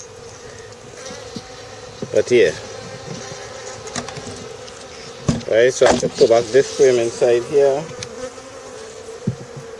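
Honey bees swarm around an opened beehive in an apiary, a constant close buzz running through the whole stretch while someone talks over it in two bursts.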